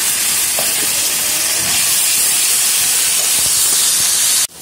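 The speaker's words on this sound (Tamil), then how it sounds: "வெங்காயம் நல்லா வதங்கிருக்கு. ஸோ இந்த செய்யணும் நம்ம கொஞ்சம் இஞ்சி பூண்டு பேஸ்ட் ஆட் பண்ணிக்கலாம்" Ginger garlic paste hitting a pan of fried onions while pepper chicken is cooked: a loud, steady, hissing sizzle that holds throughout and cuts off abruptly at the end.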